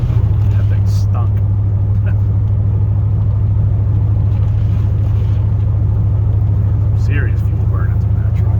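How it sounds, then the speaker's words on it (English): Diesel truck rumbling past during a blizzard snowstorm, a steady low engine drone that stays loud and continuous throughout, with faint scattered higher noises over it. "Serious fuel burn from that truck."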